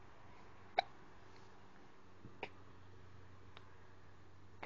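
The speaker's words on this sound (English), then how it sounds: "You still got the hiccups though." Small hiccups from a young animal or child indoors: two or three brief, faint, isolated hiccup sounds spaced a second or more apart in a quiet room, with no one speaking.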